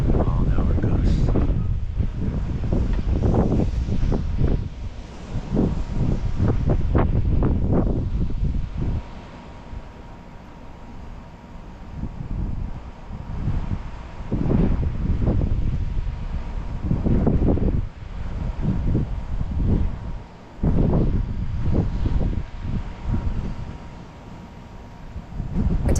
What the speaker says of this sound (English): And 40 mile an hour gusts.